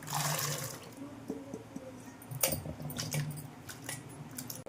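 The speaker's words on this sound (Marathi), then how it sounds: "स्वच्छ पाण्याने धुवून घेणार आपण" Corn kernels are washed in clean water, with close splashing, squishing and trickling as the grains are rubbed and rinsed by hand, fairly soft with small clinks and drips and no voices.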